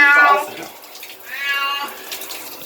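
A cat meows loudly twice while getting a bath, with running water from a faucet in the background and a person talking nearby.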